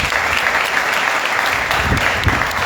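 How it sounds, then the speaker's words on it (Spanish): A church congregation fills the room with steady, dense applause, loud and continuous across the whole stretch, with a few low thumps underneath and no talk over it. "Denle un aplauso a Dios."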